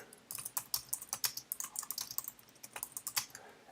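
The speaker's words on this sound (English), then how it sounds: "So I'm just going to type something in here." Rapid, steady clicking of typing on a computer keyboard, close and crisp, keystrokes tumbling out in quick bursts with no voices.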